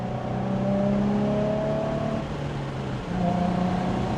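Steady engine drone of a car being driven, holding a fairly constant pitch with slight shifts as revs change, continuous and close with no talking.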